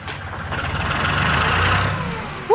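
A tractor engine running nearby, a steady low rumbling drone that swells slightly and holds throughout, with no talking.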